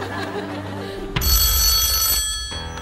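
On a TV game show studio set, a telephone bell rings loudly in a bright, jangling burst lasting over a second. Studio hum and murmur surround it.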